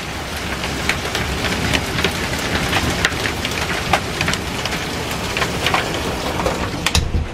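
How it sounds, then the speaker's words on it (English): Heavy wind-driven rain mixed with small hail pours down outside a front door in a dense, loud, constant roar, dotted with sharper ticks and pings throughout. "You can hear the hail, which I hate that."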